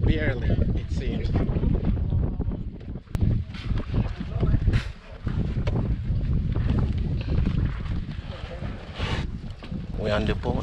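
A small boat crosses to Pinel Island off Saint Martin, its engine and hull rumbling under strong wind buffeting the microphone, with people talking throughout.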